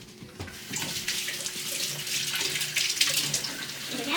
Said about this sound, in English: The first step is we need to wash our hands.